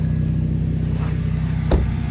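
A very low-slung broken-down car idles and creeps up onto a tow truck, its steady low engine rumble close and continuous, with a brief bump near the end.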